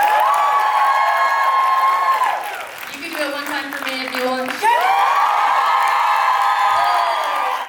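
A live podcast audience claps, cheers and whoops in a sustained loud burst, with a brief dip in the middle before the crowd noise swells again, and shouting voices mixed in.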